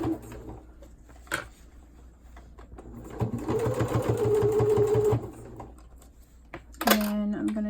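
A sewing machine top stitches a cloth diaper, running in a steady whirring burst after a few quiet clicks and handling sounds, ending with a brief clatter.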